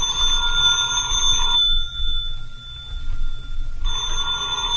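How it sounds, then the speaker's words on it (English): Old-time telephone bell ringing in two loud, sustained bursts separated by a short pause, heard on its own without talk. "That's your phone, Mr. Austin."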